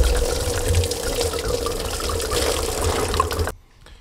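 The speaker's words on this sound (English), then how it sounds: "Once you do, the car will just start pouring coolant out." Coolant pours steadily from a disconnected hose on an Audi B5 S4 into a container beneath during engine removal, a close, continuous liquid splashing that stops abruptly near the end, leaving near-silence.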